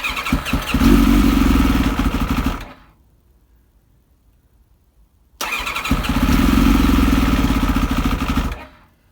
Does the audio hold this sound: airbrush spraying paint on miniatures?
no